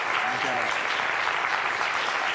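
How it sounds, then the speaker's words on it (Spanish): Strong audience applause sending off a guest, dense and steady from start to finish with no pauses. "Despidamos con un fuerte aplauso"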